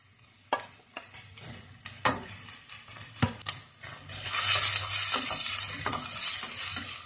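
Onion and peppers frying in a pan, with sharp utensil clicks and taps against the pan early on, then a fuller sizzle building in the second half, fairly quiet overall.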